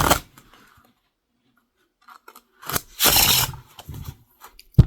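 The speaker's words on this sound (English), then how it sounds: "Let me shuffle these real quick." Tarot cards shuffled by hand in a few short scattered bursts, with one louder riffle in the middle and a sharp tap at the end, close and otherwise quiet, with no talking.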